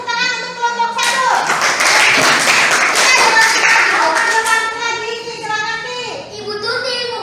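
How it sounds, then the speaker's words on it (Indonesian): Students in a classroom clap for a group of classmates, a burst of brisk, close applause swelling for a few seconds and fading, with a teacher's voice and children's chatter around it. "Kasih tepuk tangan untuk kelompok 1."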